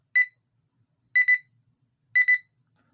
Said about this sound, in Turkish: Alarm da bu şekilde çalıyor. Gayet güçlü bir alarmı var.